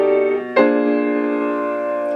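Keys play a jazz chord progression using tritone substitutions, a sustained chord moving to a new voicing with a soft attack partway through, then ringing out and slowly decaying.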